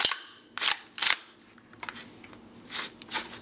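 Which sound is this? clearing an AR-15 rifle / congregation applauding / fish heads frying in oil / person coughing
clearing an AR-15 rifle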